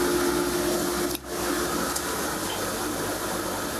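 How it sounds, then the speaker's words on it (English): A sump pump moves maple sap up into a storage tank, giving a loud, steady mechanical drone with a constant hum and one brief dip partway through. "he has a sump pump that pumps the sap back up and into his storage tank"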